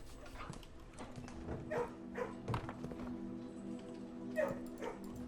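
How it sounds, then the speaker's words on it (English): A puppy in the video game Blue Prince gives small barks and yips, several short bursts over a faint steady background, with a voice talking quietly beneath. "Puppy."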